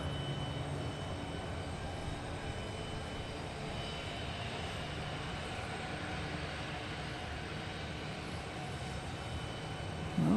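An airliner taxiing at Dallas Love Field makes a steady, droning engine rumble with a faint whine, even and continuous at a moderate distance, with no voices.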